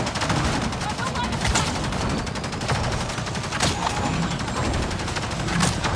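Very rapid, continuous gunfire crackles without pause in Avatar: Frontiers of Pandora, loud and dense for the whole stretch with no voices over it.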